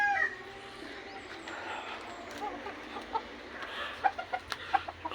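A backyard gamefowl rooster clucks in short sharp notes that grow more frequent toward the end, over a low steady background hum.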